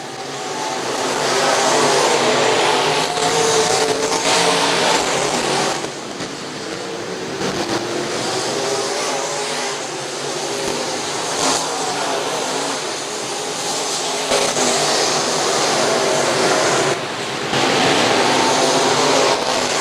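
Race cars roar around Bethany Speedway during a feature race, their engines forming a loud, continuous, dense wall of sound that swells and dips slightly as the pack passes.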